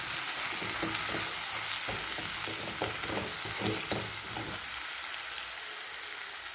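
Chili powder sautéing in a hot oiled pan for a chicken fry dish, a steady close sizzle with soft rhythmic stirring scrapes through most of the clip, easing off near the end.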